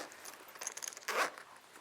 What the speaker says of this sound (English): Gonna move the zippers a little bit in